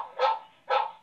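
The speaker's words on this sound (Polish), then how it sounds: "Możecie sobie włączyć tutaj szczekanie psa na przykład." A barking-dog alarm tone plays from the speaker of a 5MP WiFi IP security camera with motion and human detection: two sharp, loud barks about half a second apart, each with a short tail, and no voice.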